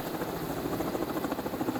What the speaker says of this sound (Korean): 헬리콥터가 머물고 있었는데 곧바로 구조대원이 밧줄을 타고 내려옵니다